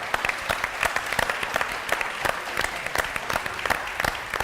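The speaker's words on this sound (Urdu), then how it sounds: "تالیاں ان کے لیے. ججز کھڑے ہو گئے ہیں." Enthusiastic audience applause at a televised Urdu speech competition as judges stand, dense rapid clapping close and loud throughout.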